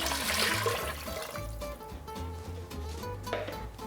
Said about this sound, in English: I'm gonna add the rest of the turkey stock